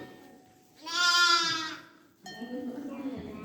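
A newborn lamb, only hours old, lets out a loud, wavering bleat up close, followed by a second softer bleat as a person talks nearby.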